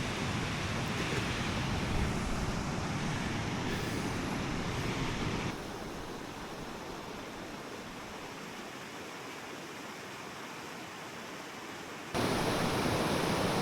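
A waterfall in eastern Iceland roars as a constant broadband rush of falling water. It drops to a softer level partway through, then swells loud again near the end.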